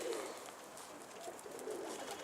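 A pigeon coos softly in repeated low, rolling phrases, fairly faint and with no talking.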